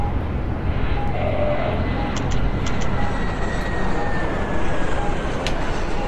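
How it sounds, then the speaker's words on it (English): Q400 turboprop engines run at an airfield, producing a loud, steady, broadband roar that holds evenly throughout with faint higher whines on top. "Right, engines off. We don't want those props spinning while people are boarding"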